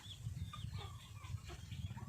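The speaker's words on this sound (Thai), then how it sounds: "ปะออนก็ต้องมาให้อาหารน้องไก่นะคะ" Chickens clucking softly close by at feeding time in the late afternoon, a steady cluster of low, quiet calls with a few higher chirps, with no talking.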